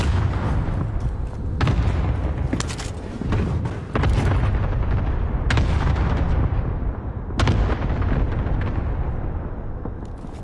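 Sniper gunfire in a video game sounds as heavy booming shots, about six of them spaced irregularly across the stretch, each with a loud crack and a long rumbling decay, and no talking.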